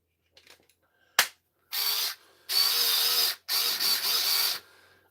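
Ratchet screwdriver from an old hobby kit, a short sharp click followed by three bursts of loud, rasping ratcheting up close, heard alone.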